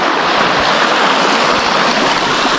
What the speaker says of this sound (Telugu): ఈ నది వాటర్ వెళ్తున్నాయి ఇలా.